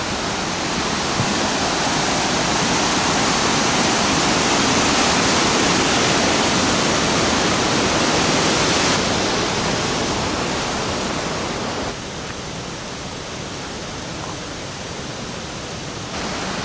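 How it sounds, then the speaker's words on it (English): A waterfall on a forest hiking trail roars in a steady, dense, loud rush that fills the whole stretch without a break, softening slightly toward the end. "I definitely approve of this waterfall and this hike."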